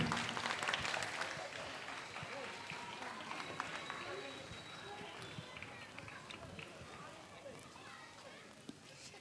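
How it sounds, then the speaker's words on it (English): Applause from an audience after a school street play about civic sense for Independence Day, a scattered, moderately faint clapping that fades gradually, with voices mixed in. "Please clap for them."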